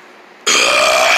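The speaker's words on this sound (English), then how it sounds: "Oh, it was just a burp." After a brief quiet moment, a single loud, sustained burp erupts close by and carries to the end.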